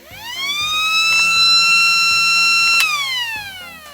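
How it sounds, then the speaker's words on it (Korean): A Marui toy sound laser gun's mechanical siren winds up to a steady wail, holds loud, then winds down, with a faint clicking motor underneath. "회전하면서 기계식 사이렌 소리가 되는 거죠"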